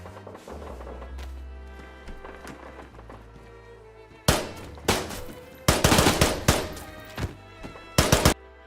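Gunfire in the video game DayZ, set in Chernarus: a burst of loud, close shots crack in uneven clusters after a stretch of quieter ambient game noise, each shot with a sharp onset and short decay.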